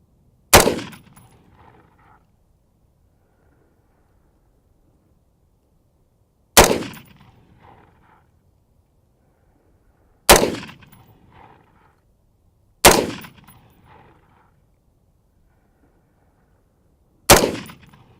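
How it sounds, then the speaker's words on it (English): A rifle fires five single sharp shots, each a loud crack with a short decaying echo, separated by several seconds of near silence. "Go ahead and fire when ready."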